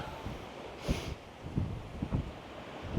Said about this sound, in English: it's windy on a cruise ship